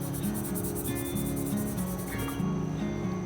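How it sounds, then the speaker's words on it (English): A Scotch-Brite pad scrubs the finish off a metal lightsaber hilt being weathered, close rhythmic rasping strokes back and forth in quick repeated bursts with no talk. "I'm gonna take the Scotch brush and just do a little bit of scrubbing"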